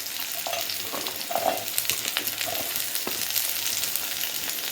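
Ginger and garlic fry in hot oil for an oil-rich eggplant curry, a soft, continuous sizzle with occasional light stirring clinks and scrapes from a utensil in the pan, quiet and without talk.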